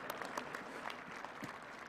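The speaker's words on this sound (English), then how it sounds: "Let's give them a round of applause." Brief, soft applause from an audience at a charity fundraiser event, with scattered individual claps heard at a distance for a couple of seconds.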